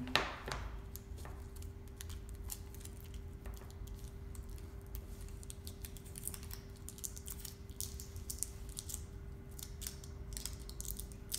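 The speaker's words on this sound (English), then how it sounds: "Get a long piece of tape so that way they'll hold tight." Adhesive tape pulled from a roll and torn to join pairs of candy canes for a wreath, with faint crackling rips and small clicks over a steady low hum.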